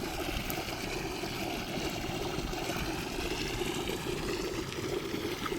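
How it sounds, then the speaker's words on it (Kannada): Borewell water gushing out onto red-soil farm land, a steady continuous rushing flow, close and fairly loud throughout with no voices. "ಒಂದು ಬೋರ್ವೆಲ್ಲಲ್ಲಿ ಬರ್ತಾರಂಥ ನೀರು."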